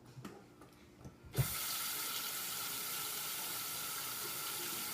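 A kitchen tap turns on for hand washing, and after a second of quiet the water runs in a steady, close, even stream that continues to the end.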